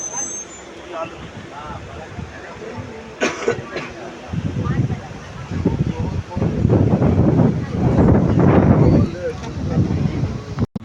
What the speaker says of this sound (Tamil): இங்கே அடிக்கிற காற்று என்னால் எப்படி சொல்கிறதுனே தெரியலங்க